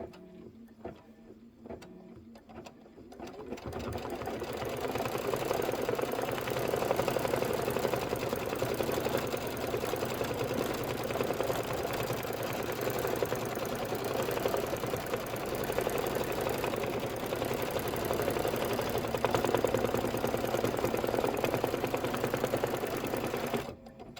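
Home embroidery machine stitching a placement line for a Kimberbell quilt block: a few quiet clicks, then a continuous, fast, even mechanical whir of rapid needle strokes that runs steadily to the end.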